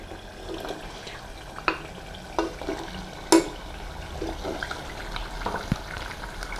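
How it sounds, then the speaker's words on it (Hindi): Turnips are stirred into mutton in a pot, with a spoon scraping and knocking at intervals over a soft, continuous sizzle of simmering oil. "गोश्त के साथ मिक्स करेंगे"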